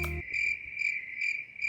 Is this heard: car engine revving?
no